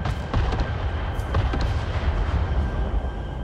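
Combat in the video game Avatar: Frontiers of Pandora with rumbling grenade blasts and scattered gunfire, booms and sharp cracks piling up over a continuous low roar, with no voices.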